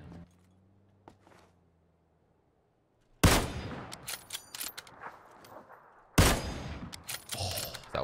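Bursts of video game gunfire burst in loudly after a quiet opening, two heavy volleys of rapid shots crackling close and sharp, each trailing into scattered popping and rattle.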